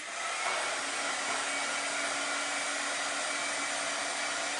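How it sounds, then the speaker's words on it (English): A hair dryer blows steadily and loudly the whole time, a constant broadband whoosh with a faint motor hum beneath and no talking. "I have my little dryer with me."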